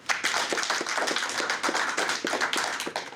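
An audience claps hands together after a motivational speaker at a talk on change management urges them to, with dense, steady clapping close by throughout.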